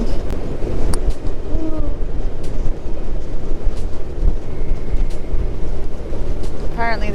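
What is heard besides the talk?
strong wind on a ship's deck near Elephant Island, Antarctica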